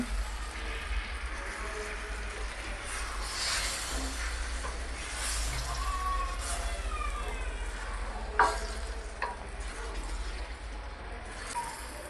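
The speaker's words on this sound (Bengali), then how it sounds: "এবার গোস্তগুলো ভালো করে নাড়াচাড়া করতে হবে।" Chicken pieces fry in a pot for a Bangladeshi potato chicken curry, with a faint continuous sizzle and a few brief stirring scrapes.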